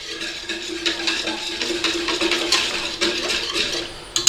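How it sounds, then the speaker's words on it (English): Whisk stirring a milk mixture in a pot, steady scraping and clinking against the metal in a quick continuous rhythm, close and alone. "Now I'm using a whisk to start this off"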